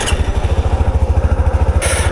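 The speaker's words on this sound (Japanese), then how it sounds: "まずちょっとエンジンスタート。" A Honda CT125 Hunter Cub motorcycle engine idling after starting, a steady close, loud low pulsing thump with a quick even rhythm throughout.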